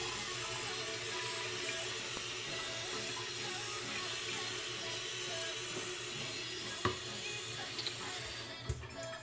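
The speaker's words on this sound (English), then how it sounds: "I'm gonna add a little bit of water" Water trickles and splashes softly into a container, a steady faint pour with a couple of small clinks near the end.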